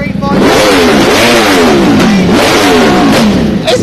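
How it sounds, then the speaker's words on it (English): A Ducati V4S motorcycle engine revved hard several times in quick succession, each blip of the throttle rising and falling in pitch, loud and close with a rough exhaust edge. "Let's rev this Ducati"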